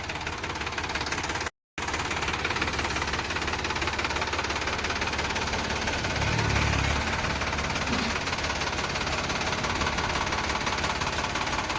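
A Sonalika DI 745 RX tractor engine running steadily, a close, continuous low diesel drone and knock with a brief cut near the start and a slight swell later on.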